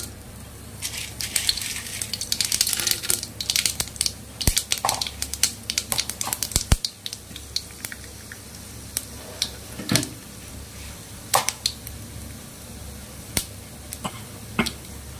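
Tempering seeds splutter and pop in hot oil in a pan, a scatter of sharp crackles and snaps that is busy at first, then thins to sporadic pops over a faint sizzle, close and without talking.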